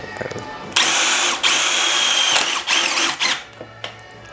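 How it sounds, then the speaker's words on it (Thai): A Bosch GDR 18V-200 C cordless impact driver whirs up loudly and runs in bursts while driving a metal screw, with a sharp hammering rattle, then stops and revs briefly again. "ต่อมาเรามาดูการยิงสกูเหล็กเลยครับผม"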